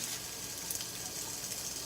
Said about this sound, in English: sizzling, so that's good.